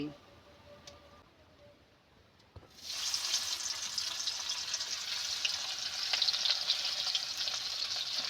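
Onions hit leftover fish-frying oil in a pan, a sudden bright sizzle that starts partway through after a quieter stretch and holds steady and close.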